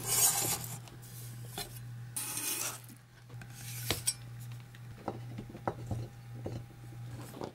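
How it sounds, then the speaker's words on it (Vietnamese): Soft, irregular knife taps on a cutting board as green onions are chopped, with rubbing scrapes between them, close and fairly quiet over a steady low hum. "phần lá hành này các bạn cắt nhỏ và để riêng"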